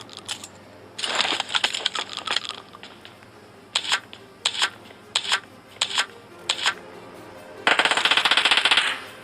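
Bursts of automatic gunfire in a shooting video game, including Uzi-type weapons, rattle in quick volleys with short pauses between, loud and close, ending in one long sustained burst.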